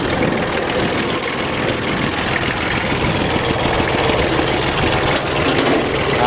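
Iseki TS2210 tractor engine running steadily with a loud, continuous knocking diesel chug throughout, close and unbroken, with no talk over it.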